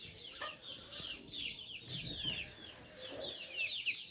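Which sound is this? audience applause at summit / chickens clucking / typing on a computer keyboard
chickens clucking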